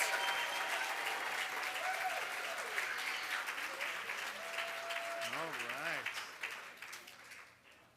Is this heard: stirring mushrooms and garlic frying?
no